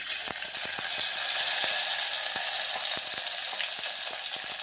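Ground spice paste hits hot oil in a pan for a Maharashtrian patwadi dish, producing a loud, continuous sizzle with scattered clicks and scrapes of a spoon against the pan.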